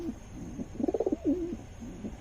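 Pigeons coo close by in a soft, low, rolling run of notes. A quick pulsing flutter of coos sits in the middle, and a few more coos follow near the end.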